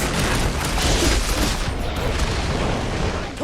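Fireworks bursting in the Guardians of the Galaxy video game, a dense continuous crackle of rapid loud pops and booms that stays steady for a few seconds with no voices over it.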